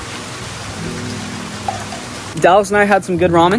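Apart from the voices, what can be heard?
rain falling outside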